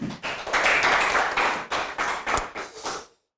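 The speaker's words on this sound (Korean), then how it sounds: "여러분의 뜨거운 박수로 함께 하겠습니다." Applause from a lecture audience, dense and loud, rising quickly and then breaking into a few uneven final claps before stopping.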